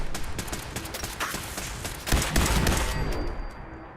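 Turret gunfire in Fallout 4, a dense run of rapid sharp shots rattling steadily, swelling louder partway through and carrying on in bursts to the end.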